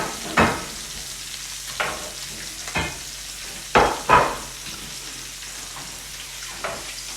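Miso-coated trout frying in a pan, a soft steady sizzle with several sharp scraping and stirring clicks scattered through, close and fairly quiet.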